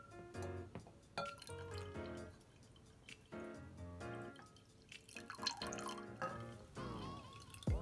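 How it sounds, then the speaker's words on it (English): Water poured into a container for a homemade lava lamp, splashing and trickling with bright clinks and a rising fill sound, uneven and close, with no voices. "So let's pour some water in."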